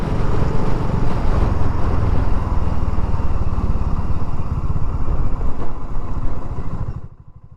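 A motorcycle rides up through a village with a loud, close engine drone that pulses steadily throughout, then drops away sharply at the very end.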